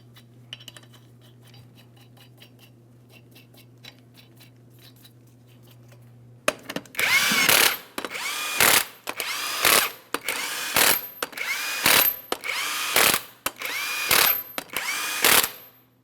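After a quiet stretch with a low hum and light clinks, a power tool whirs in about eight sharp, loud bursts on the 22mm lug nuts of a 2007-2014 GMC Sierra 2500 HD front wheel, each burst briefly revving then stopping.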